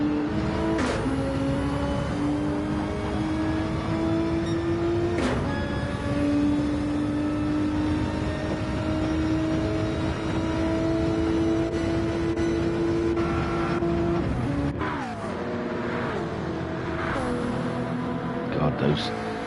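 Race cars in the Daytona GT3 video game drone steadily at close range, one engine note holding high while others overlap, with occasional passing whooshes and a sharp shift near the end, under continuous commentary.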